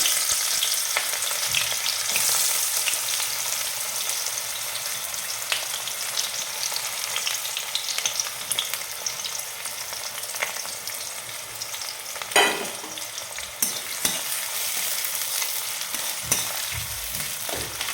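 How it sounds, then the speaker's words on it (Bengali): Onions and whole garam masala spices sizzle steadily in hot mustard oil, a constant close frying hiss with occasional stirring scrapes, one sharper burst near the end. "পেঁয়াজটা ভাজতে দিয়ে দিয়েছি, পেঁয়াজটা একটু লাল লাল হবে।"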